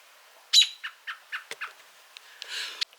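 A broody hen waiting on her eggs to hatch gives a run of short, clipped calls, about six evenly spaced clucks followed by a longer rising squawk, close by and fairly quiet with no voices over it.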